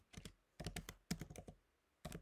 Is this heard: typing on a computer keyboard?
yes